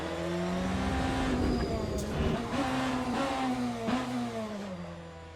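Race car in the Le Mans Ultimate racing game, heard close and steady as its engine note drops under braking, with faint tire squeal and shifting revs.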